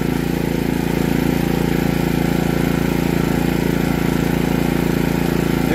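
A Heomaito HMT3500iD/HMT4300iD dual fuel 3000W+ inverter generator on its first start runs steadily at a constant idle, loud and close, with an even mechanical hum and no voices.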